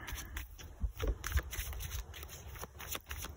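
A deck of playing cards being shuffled during a tarot-style card reading, with several quick riffling bursts and soft flicks that are fairly quiet and close up, with no voices.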